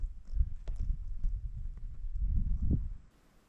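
A group of wild horses walks away across desert ground, hooves producing a loose, close clip-clop of overlapping steps that fades out near the end.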